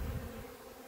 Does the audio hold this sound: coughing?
no